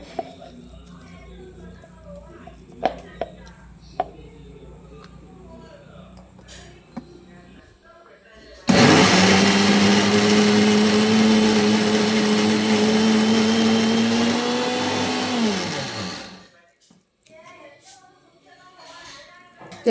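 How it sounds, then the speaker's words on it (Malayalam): A kitchen mixer grinder whirs loudly for about eight seconds, grinding mango chutney with grated coconut and curry leaves, starting abruptly and winding down, after quieter clinks and handling sounds. "ഇതിനകത്തോട്ട് തേങ്ങയും കറിവേപ്പിലയും കൂടി ഇട്ടൊന്ന് അരച്ചെടുക്കാം."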